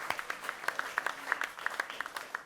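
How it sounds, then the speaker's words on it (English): An audience at a women's football strategy launch applauds a dance academy troupe, with steady scattered hand claps, fairly close and continuous, with no one talking over them. "Another round of applause, and they do a great job tonight."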